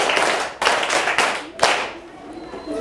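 Pupils in a classroom applaud a classmate with a short round of rhythmic group claps, a few sharp beats in a row before trailing off, with a voice in the background.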